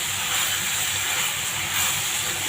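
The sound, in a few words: onions and tomatoes sautéing in a pan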